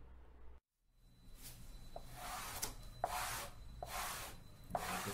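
A hand smoothing PVC laminate sheet onto a wardrobe makes soft repeated rubbing swishes in a steady rhythm, faint and close, following a brief silent gap.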